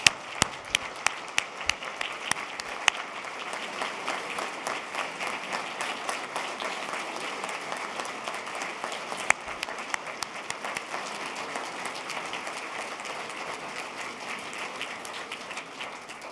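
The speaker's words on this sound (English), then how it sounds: "let's give them all a round of applause" Sustained applause fills a hall at a Labor Hall of Honor induction ceremony, a few sharp individual claps at first and then an even, steady wash of clapping from a large audience.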